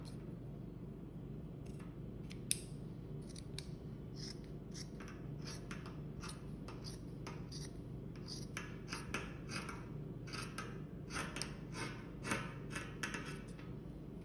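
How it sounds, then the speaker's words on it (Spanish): Scissors snip repeatedly through T-shirt fabric, cutting off the bottom hem, a series of quiet crisp cuts in uneven rhythm over faint room noise. "You want to cut off your bottom hem."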